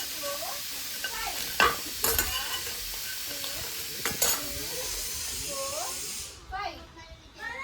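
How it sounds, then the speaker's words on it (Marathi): Garam masala roasting in a pan in a village kitchen gives a steady sizzling hiss with scraping stirs, while voices talk intermittently over it. "माईने घेतलं इथे मसाला सगळा आपला गरम मसाला भाजायला"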